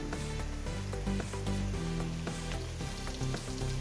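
Whole cinnamon, cloves and cardamom fry in a pan with a steady, loud sizzle and crackle, with small pops scattered through, as a spice base for leek chicken fry.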